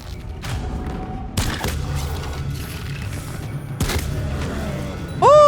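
Two sharp gunshots ring out in Ghost of Yōtei, the second a loud close crack, over steady game ambience with scattered thuds, ending in a brief tonal effect.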